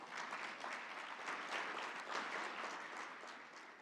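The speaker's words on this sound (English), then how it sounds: "Can we all just acknowledge them with a round of applause?" A round of applause from the audience at the GCARD3 closing ceremony, even dense clapping held throughout, fairly faint and distant-sounding, with no talk over it.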